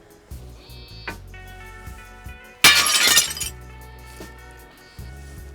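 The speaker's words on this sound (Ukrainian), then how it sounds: "Ми розбили скло." A glass pane is smashed to test an Ajax GlassProtect glass-break sensor: one loud, sudden shattering crash with a bright spray of breaking glass, fading over about half a second amid low background hum and faint tones.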